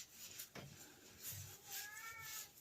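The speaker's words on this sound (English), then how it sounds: "my cat's objecting to the fact that he's not in here" A male cat meows at a closed door, protesting being shut out of a work room; a few short, fairly faint cries spread across the clip, rising and wavering, alone with no one talking.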